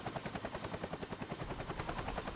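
Helicopter in the video game Point Blank: a steady, pulsing rotor chop with even rapid beats throughout, moderately loud and alone with no talk.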